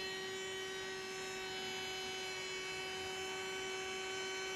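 Steady electric motor hum of a bloom blower used to blow out paint for bloom-style paint art, a constant tonal drone with no breaks, close and even throughout.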